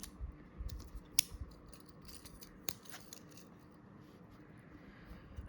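The small metal scissors of a folding multi-tool close with a couple of sharp clicks, followed by soft handling noises in an otherwise quiet room.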